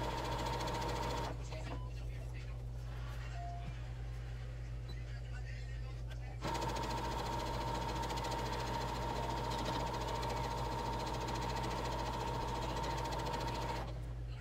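Sewing machine closing a cloth napkin made from a dish towel, a steady motor drone and needle rattle running continuously, with a short quieter stretch early on.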